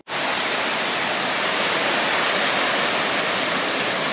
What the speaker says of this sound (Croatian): Baš u Janskim otocima rijeka Janj se razlijeva u mnogobrojne potočiće